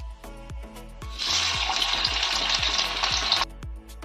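Oil hits a hot kadai while Matar Paneer is being cooked, a sudden loud, dense sizzle that holds for about two seconds amid a repeating low rhythmic thumping, then cuts off sharply.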